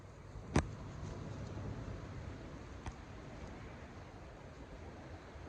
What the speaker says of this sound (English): And as you can tell, windy.